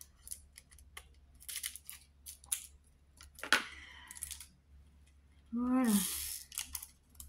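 Scissors snip through paper in short, close bursts, with a sharper rasping cut near the middle and a brief sliding rustle toward the end; someone speaks a single word.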